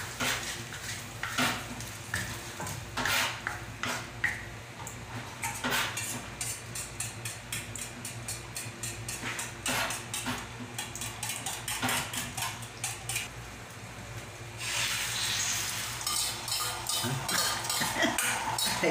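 Eggs beaten in a bowl, a steady run of quick clinking utensil strokes against the dish, close and continuous, with brief pauses and a louder frying-like hiss toward the end.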